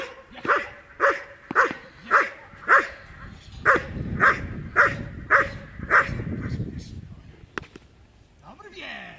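A German shepherd barks about ten times in a steady, evenly spaced run, loud and close, then falls quiet, with a short yelp near the end.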